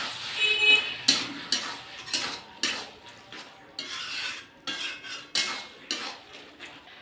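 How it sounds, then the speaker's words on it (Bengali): A spatula scrapes and stirs cabbage with fried spice mix, chopped coriander and a little sugar in a pan: a steady series of close metallic scraping strokes at an irregular rhythm, with no voices. "বাঁধাকপিটা ভালো করে একটু নেড়ে নিয়েছি"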